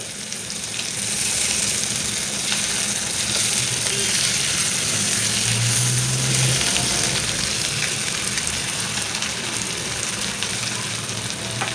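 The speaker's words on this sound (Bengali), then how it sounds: "আলুগুলো ভাজা হয়ে গেছে বন্ধুরা, তুলে নিচ্ছি।" Potato pieces fry in hot oil in a home kitchen while a light rohu fish curry with pointed gourd is being made, a loud, unbroken sizzle close to the pan throughout.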